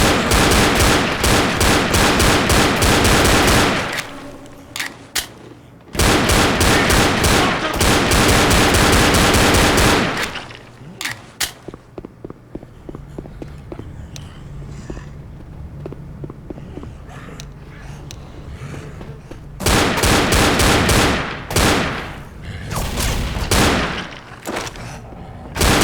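Left 4 Dead gunfire on Xbox 360: long, loud stretches of continuous automatic fire broken by short pauses, with quieter intermittent shots in the middle section.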